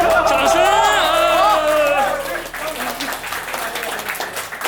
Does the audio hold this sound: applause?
yes